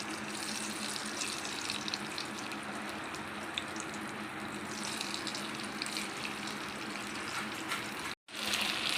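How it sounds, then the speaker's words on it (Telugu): Potatoes frying in a couple of spoons of oil in a pan over a high flame, a steady hissing sizzle that runs continuously at moderate volume and cuts out briefly near the end. "ఇలా అన్నీ వేసేసుకొని హై ఫ్లేమ్లో పెట్టుకొని ఫ్రై చేసుకోవాలండి"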